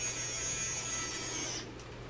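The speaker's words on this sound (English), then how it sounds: "It's a little bitty shaver." A tiny battery-powered facial hair shaver with a built-in light runs with a steady, close electric whine and low hum, then cuts off near the end.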